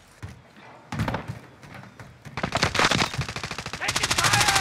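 Rapid bursts of automatic gunfire in Call of Duty: Warzone Rebirth Resurgence quads, loud close shots with sharp impacts, building into sustained fire with a brief voice line beneath.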